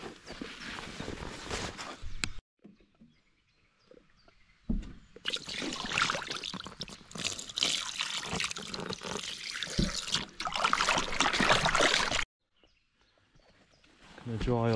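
Water splashes and trickles over a landed fish laid out on the bank, in bursts between stretches of talk, with handling noises mixed in.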